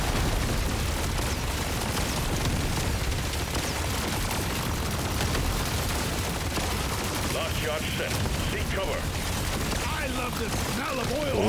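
Rapid bursts of explosive detonations and gunfire from the Deep Rock Galactic: Survivor video game, a dense, continuous barrage of blasts and crackling booms layered without pause under game effects.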